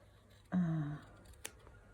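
Scissors cut fabric for a collage, making one short, close snip followed by a faint click.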